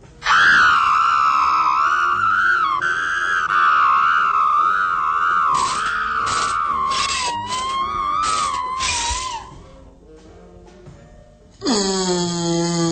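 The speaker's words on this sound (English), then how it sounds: "The screaming action." A woman's high-pitched wailing scream, shown as a cowardly self-defense tactic in a 1962 instructional film, rises and falls in long sustained bursts with brief gaps, ending in a sharp, loud shriek.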